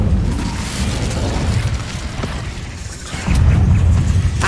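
Casting the Incendio fire spell in Hogwarts Legacy gives a loud, rumbling whoosh of flame that swells into a heavier burst near the end, with no voices over it.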